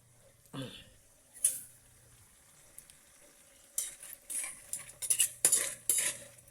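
Metal utensils clink and scrape in a pot of crab and tilapia cooking in coconut milk with squash and eggplant, in irregular bursts, with a soft sizzle underneath and a brief voice early on.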